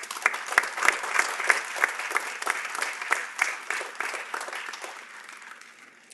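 After a speech at a community college commencement ceremony, an audience applauds in a lively burst of overlapping claps with a few sharp accents, tapering off gradually over about six seconds.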